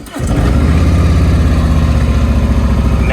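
A 2021 Harley motorcycle engine cranks and fires, then settles into a loud, steady, throbbing idle close by, running evenly to the end without any voices.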